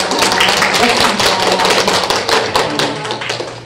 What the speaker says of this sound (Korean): 큰 박수로 교부장님 인사 올리겠습니다